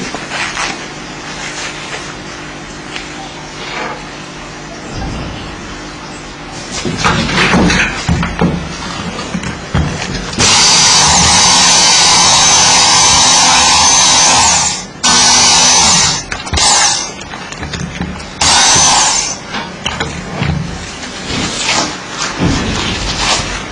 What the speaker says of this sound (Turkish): Bunu matkap yardımıyla yapacağız.